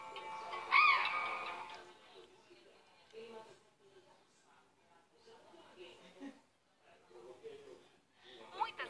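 An azure jay in araucaria pine country gives a loud, harsh call close by at the start, followed by softer scattered calls under quiet speech.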